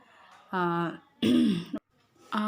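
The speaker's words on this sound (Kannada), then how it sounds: "ಮಾತಾಡ್ತಾನೆ ಇದ್ದರೆ ಕೆಮ್ಮು ಬಂದುಬಿಡುತ್ತೆ" A woman with a sore, irritated throat clears it in two harsh bursts between stretches of her own speech, close and loud.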